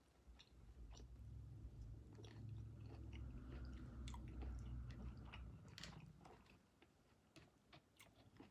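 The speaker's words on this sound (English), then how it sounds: "There's a lot of chewing." Someone chews a mouthful of Chick-fil-A Cobb salad up close, soft crunching and wet mastication sounds continuing steadily for several seconds before tapering off quietly.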